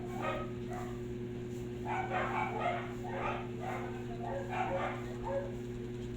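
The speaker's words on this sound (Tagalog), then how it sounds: "Tapos ngayon may aso na biglang mag-iingay." Several dogs barking and yelping in short repeated bursts at moderate distance over a steady low mechanical hum, in a neighborhood that had been quiet.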